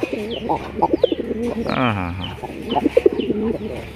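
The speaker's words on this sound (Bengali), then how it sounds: "দেখি কবুতরটা ডাকে কেমন" A pigeon coos in close, repeated throaty phrases, broken by a brief rising whirring call midway, with faint human voices in the background.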